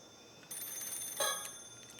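A telephone rings in the video game Paranormasight, a bright trilling ring that begins about a quarter of the way in and swells into a louder burst near the middle, heard alone with no talk.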